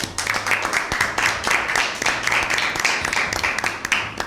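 An audience at a Bible quiz show gives a round of applause for a correct answer. The clapping is dense and steady, filling about four seconds without a break.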